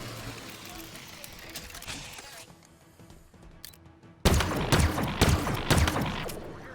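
Stalker rifle gunfire in Halo Infinite, with a burst of several sharp, loud shots in quick succession after a quieter stretch of game ambience.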